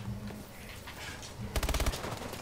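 Mac-10 submachine gun fire in a video game: a quick rapid burst of about half a dozen shots rattles out near the end, after quieter background game noise.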